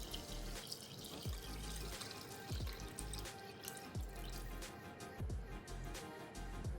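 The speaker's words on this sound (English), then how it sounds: "And last but not least, the beef broth and the gravy. We are going to go ahead and add that." Beef broth and gravy are poured into a crockpot for pot roast, giving a soft, continuous liquid splashing and trickling with a few drips and light thumps, faint and close.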